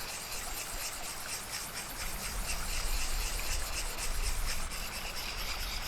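A knife blade rubbed back and forth on a sharpening stone with a backcountry sharpening kit, a steady continuous rasping scrape held close and fairly loud for several seconds with no pauses.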